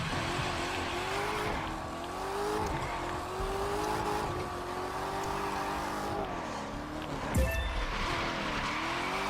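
A car drifts along a road in The Crew 2 racing game, its engine droning steadily with rising and falling pitch while tires squeal continuously, plus a brief sharp burst near the end.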